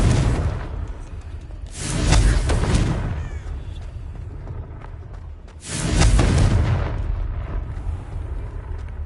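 Confringo explosion spells in the Hogwarts Legacy video game, two deep booming blasts several seconds apart, each with a whooshing rush and a long rumbling tail.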